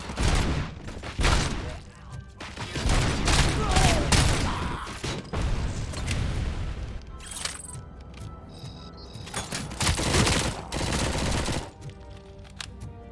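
Rapid gunfire bursts from the video game RoboCop: Rogue City, loud volleys of automatic shots and impacts repeating through the clip over a game music bed, with brief voice fragments.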